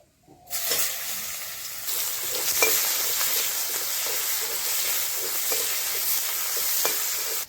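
Chopped onions hit a hot pan and burst into a loud, sustained sizzle and hiss after a brief quiet start, with occasional stirring scrapes over the steady frying, close by and without talk.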